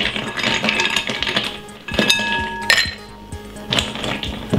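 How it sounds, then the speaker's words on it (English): Ice cubes dropped into a drinking glass, a run of close, bright clinks and rattles as the cubes knock against the glass and each other. "put some ice in it."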